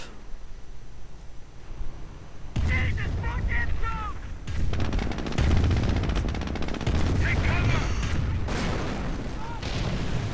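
Nebelwerfer rocket artillery and machine-gun fire in a World War II strategy video game, with rapid bursts, whooshing rocket salvos and heavy booms in dense, overlapping waves, and a voice talking over parts of it.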